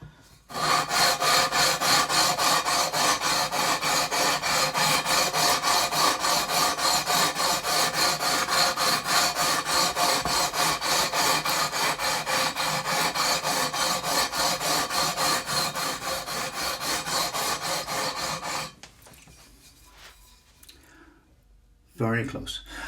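Frets on a Gibson Les Paul Studio neck are sanded with 240 grit paper in fast, even back-and-forth rasping strokes. The close, loud scraping runs continuously for almost twenty seconds before stopping abruptly.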